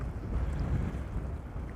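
Strong wind buffeting across a lake fishing venue with choppy water, a dense low roar that stays steady throughout, no voices.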